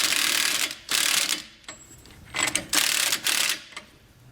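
Impact wrench giving short bursts to snug a spindle nut on a trailer hub, four loud rattling hammering spurts separated by brief pauses, close by.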